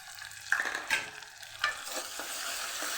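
Onions sautéing in a pan for a Kathiyawadi white pea and potato curry, a steady sizzle with a few sharp scrapes and clinks of a spoon, close and moderately loud, no voices.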